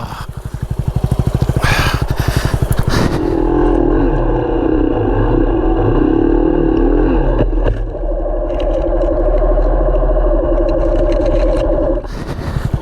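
A Yamaha WR250R dirt bike's engine roars and revs on a muddy trail, loud and close, its pitch rising and falling as the rider pushes through, with brief scraping moments.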